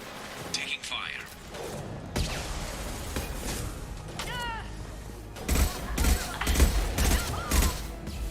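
Gunfire erupts during a combat firefight in the video game Mass Effect, with scattered shots and mechanical clanks early on, then a dense, loud burst of rapid shots in the second half, mixed with game effects.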